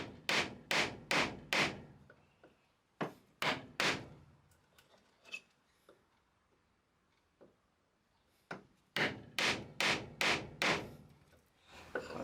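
A laminated wooden carver's mallet strikes a chisel in quick bursts of four or five sharp, close knocks, with pauses and a few lighter taps between the bursts.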